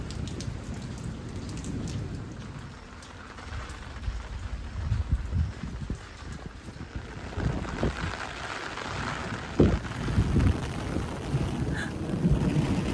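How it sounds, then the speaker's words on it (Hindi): Heavy morning rain after a ten-day dry spell pours down steadily, a dense close hiss of drops striking surfaces, with occasional louder splashes and thuds; no voices. "फिर अगले दिन सुबह हुई बहुत बारिश, 10 दिन के गैप के बाद।"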